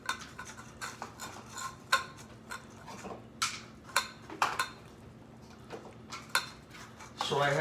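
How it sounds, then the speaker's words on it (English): Metal spoon clinks and scrapes against bowls while dry cat food is scooped out for feral cats, a series of sharp irregular taps and rattles over a low steady background hum. "So I'm gonna use that spoon to fill up these bowls here."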